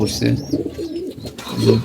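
Domestic pigeons in a Bengali keeper's military-breed loft give low repeated cooing, close and fairly loud, with a voice speaking over parts of it.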